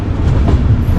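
Alleppey-Dhanbad Express rolling along the rails near Ernakulam South, a steady loud low rumble of wheels and carriages, continuous and close, with no voices over it.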